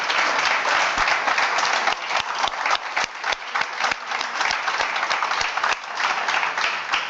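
Sustained applause from a conference audience at the Iberosphere summit in Madrid, dense clapping with some distinct sharp claps standing out, loud and continuous with brief dips.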